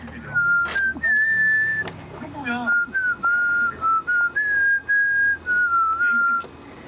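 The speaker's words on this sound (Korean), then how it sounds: "나 휘파람 잘 부르지?" A person whistles a wavering melody with held, sliding notes, close and loud, with faint background noise and a brief voice partway through.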